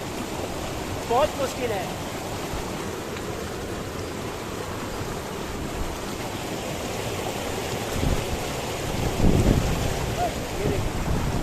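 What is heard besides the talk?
mountain stream water on Gangotri to Gomukh trail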